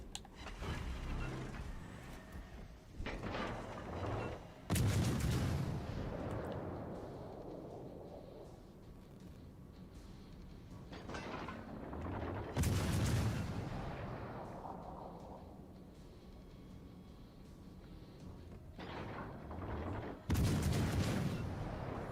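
Battleship main guns firing AP shells in World of Warships: Legends, three heavy booming salvos spaced several seconds apart, each a loud blast that rolls off into a long fading rumble, with mechanical clanks and hum between shots.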